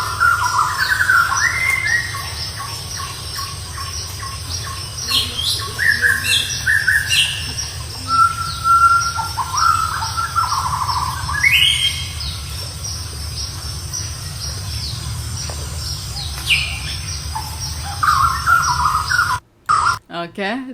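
Nature recording played back with many birds chirping and tweeting in quick varied calls over a steady insect and cricket drone, busy and continuous, ending with a brief dropout.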